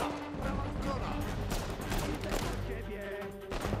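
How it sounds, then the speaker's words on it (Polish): Gunfire in the Uncharted 4 video game, a dense stretch of rapid shots and impacts that goes on throughout, loud and busy, with explosive crashes mixed in. "Sorry, myślałam, że do mnie strzelasz."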